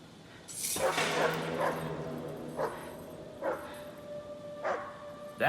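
A dog in the video game Hidden Agenda yelps and barks several times, short separate bursts at moderate volume over a quiet background, with no talk.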